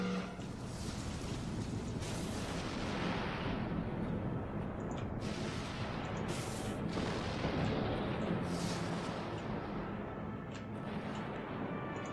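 A destroyed hostile corvette explodes in the naval space combat game Dreadnought, a steady loud roar of blasts and rumbling fire with several sharp cracks layered on top, continuous for about twelve seconds.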